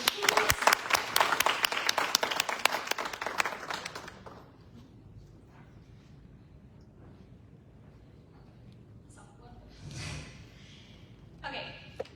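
Audience applause at a global health panel marking an anniversary, dense loud clapping for about four seconds that then fades to a quiet room, followed by faint scattered noises.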